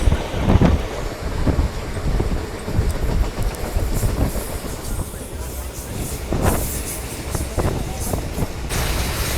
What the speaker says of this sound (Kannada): ICF ಮತ್ತು ನಮ್ಮ ವ್ಯಾಪ್ 4 2 ಕಾಂಬಿನೇಷನಲ್ಲಿ ಯಾವ ರೀತಿ ಹೊಡಿತಾ ಇದ್ದಾನೆ